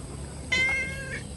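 A cat at a riverside picnic spot gives one drawn-out, fairly close meow that wavers in pitch, over a low background hum.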